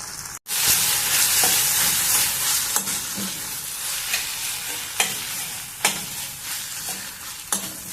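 A spoon stirs garam masala and coriander powder into potato curry sizzling in a pan, loud steady frying hiss with periodic scraping strokes against the metal.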